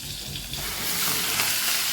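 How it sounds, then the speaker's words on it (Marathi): Gram greens frying with garlic, mild chillies and asafoetida in a pan, giving a loud, even hiss of sizzling oil that swells slightly over a couple of seconds, with no voices. "आता छान परतून घेऊया आपण ही भाज्याने"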